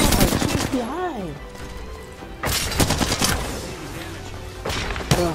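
Rapid gunfire in Apex Legends, a game match, with bursts of shots in several clusters, loud and close, mixed with excited talking between volleys.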